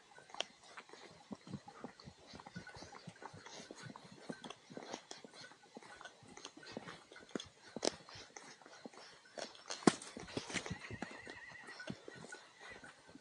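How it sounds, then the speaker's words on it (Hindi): Horses on a muddy mountain trail with water crossings, a dense scatter of hoof clops and shuffling steps at moderate distance, with occasional louder knocks and a faint whinny partway through. "इधर से भी कोई घोड़े बोल रहे हैं, आवाजें आ रही हैं उनकी।"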